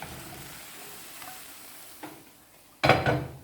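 Vegetables sliding into a hot pan for a bull gardiane stew, a quiet sizzle with a couple of faint scrapes, then a sudden loud burst of frying as they hit the fat, nearby with no talk.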